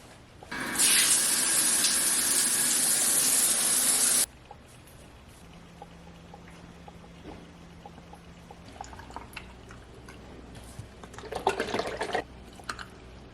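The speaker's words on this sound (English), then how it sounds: "I'm going to attempt to shower because I have not done so in 3 days" A shower runs in a steady, loud hiss of falling water for a few seconds and then cuts off, leaving quieter drips, taps and splashes of water in a small bathroom.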